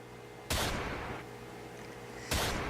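Two loud gunshots about two seconds apart, each followed by a reverberant decaying tail over a faint low hum.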